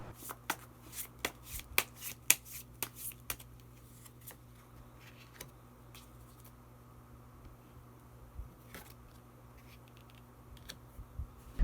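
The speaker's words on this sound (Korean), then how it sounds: "그러면 마지막으로 히든 카드 한 장 더 뽑아보도록 하겠습니다" A tarot card is drawn from the deck with faint, scattered papery clicks and soft taps that are denser at first and then sparse, in a quiet room with no talking.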